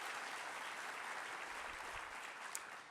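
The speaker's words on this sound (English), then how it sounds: "please give Anne another round of applause for the work that she does at the Child Fund" Audience at a summit keynote applauding, a dense, sustained wash of many hands clapping at moderate distance, steady for the whole stretch with no speech.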